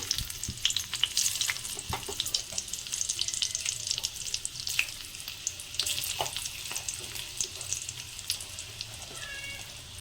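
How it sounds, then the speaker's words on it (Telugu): Dried red chillies fry in a pan for a garlic egg chilli dish, a dense, bright, continuous sizzle with frequent crackles and pops, close and without talking. "ఇంక ఇప్పుడైతే ఎండుమిర్చిలు వేస్తున్నాము"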